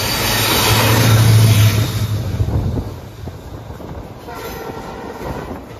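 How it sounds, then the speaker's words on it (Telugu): A train on the opposite track rushes past close by, a loud rumbling clatter of wagons that peaks early and then settles into a lower, steadier rolling noise as it passes. "ఇంకొక ట్రైన్ ఆపోజిట్లో ట్రైన్ వస్తున్నది అబ్బా"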